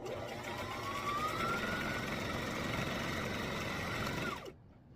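Domestic sewing machine stitching quarter-inch seams across the top and bottom of fabric pieces for a small organizer, a steady continuous motor whir running for over four seconds before stopping abruptly near the end.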